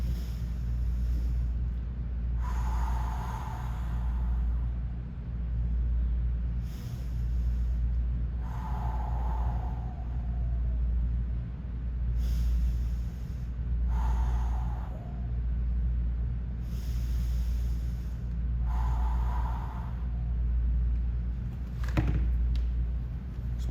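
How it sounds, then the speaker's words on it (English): Deep inhales followed by forceful, drawn-out exhales in a golf breathing and activation drill for iron shots, repeating in a steady cycle about every five seconds over a constant low wind-like background. "I want an exhale for a 5 count to get all the air out"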